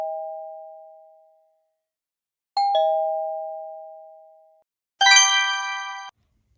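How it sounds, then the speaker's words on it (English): A doorbell sounds twice as a two-tone ding-dong, each chime ringing out and fading, followed by a brighter metallic ding near the end, in an otherwise quiet room. "It's a doorbell."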